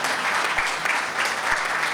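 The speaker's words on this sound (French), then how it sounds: "Ça mérite quand même des applaudissements." A gathering audience breaks into applause, a steady, even wash of many hands clapping together at moderate volume, with a couple of dull thumps underneath.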